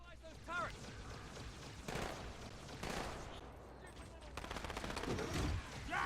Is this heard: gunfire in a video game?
yes